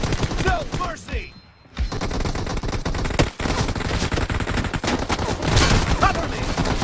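Rapid bursts of gunfire in the mobile battle game PUBG Mobile, played as a 4v4 team match. The shots crackle loud and dense through most of the stretch, break off briefly early on, then resume steadily.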